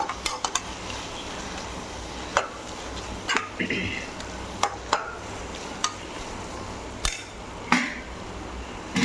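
Potato mixture being sautéed and stirred in a pan for a prawn and potato thokku, with faint steady sizzling under sharp, irregular clinks and scrapes of a utensil against the pan.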